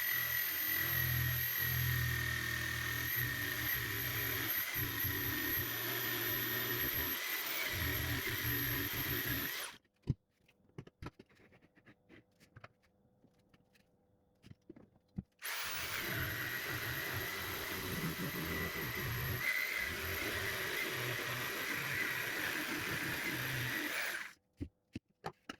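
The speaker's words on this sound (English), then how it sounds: "the jigsaw fell to the floor, so it sounds a bit tired and gets really hot now" A worn jigsaw, dropped earlier and now running rough and hot, cuts wood for a serving platter with a continuous high motor whine. It stops for about five seconds in the middle, then starts again and runs on before cutting out near the end.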